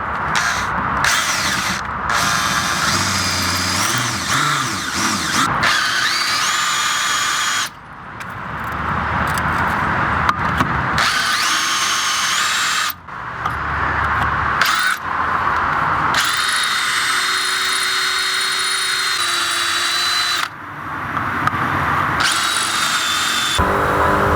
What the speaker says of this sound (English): Put oil there in, so it drills better if there's oil.